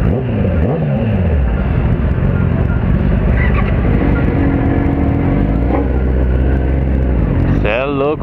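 Engine rumble of a Chevrolet Camaro with big wheels passing on a busy street among other vehicles and motorcycles, steady and loud throughout with rising and falling engine tones.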